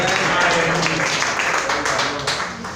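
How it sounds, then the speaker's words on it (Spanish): Applause from a church congregation during a worship service, a dense wash of clapping that stays loud through most of the stretch and eases slightly toward the end, with some voices mixed in. "Denle un aplauso fuerte a nuestro Dios"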